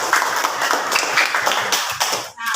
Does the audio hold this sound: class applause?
yes